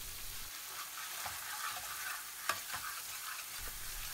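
Spices stirred into a frying Dhansak curry with salt, chilli powder, sugar and fenugreek, a steady sizzle with soft scraping stirs throughout, close and fairly quiet.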